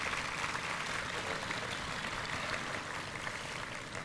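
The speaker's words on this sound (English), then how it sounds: "A round of applause, please, for our readers." Applause from the audience at a memorial remembrance ceremony, a steady dense wash of clapping that continues unbroken at moderate distance for the whole stretch.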